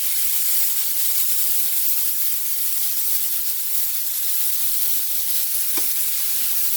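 Pork chops fry in olive oil in a crowded pan, a steady, close, continuous sizzle and hiss with a faint clink near the end, no talking.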